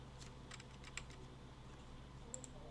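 Computer keyboard keys pressed in tax accounting software, a few quiet scattered clicks and taps over a low steady hum, with brief bright ticks near the start and end.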